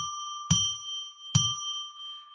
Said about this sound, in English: I'm going to ring a bell 3 times to declare sacred space